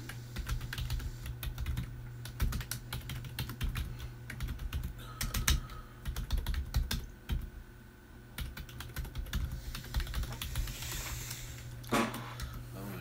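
Steady typing on a computer keyboard, close and fairly quiet, with continuous rapid clicking in bursts and short pauses, alone without talk.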